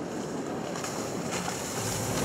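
A Zar Formenti 57 Welldeck boat runs at about 4,500 revs at over 30 knots. Its engine drones steadily under loud rushing water and wind noise, and the broad roar stays constant throughout.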